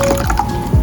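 Water poured for pani puri masala water, a short wet splashing fill lasting under a second, close and clear with no voices.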